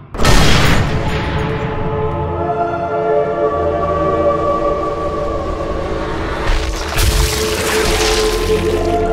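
Gunfire from a modded weapon in the Kenshi video game, a sharp loud blast at the start followed by a sustained rumbling drone, then a second burst near the end.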